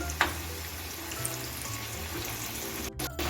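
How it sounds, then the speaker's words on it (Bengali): Potato snacks frying over a medium gas flame while being stirred, a steady close sizzling hiss with a sharp clatter at the start and brief scraping near the end. "দেখুন আমি গ্যাসটা মিডিয়ামে রেখে এখন সমানভাবে নেড়ে চেড়ে ভেজে নিচ্ছি"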